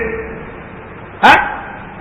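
A single dog bark sounds through a phone speaker, one short, loud burst above a quiet background hum.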